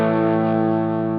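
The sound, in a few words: guitar overdrive pedal at full gain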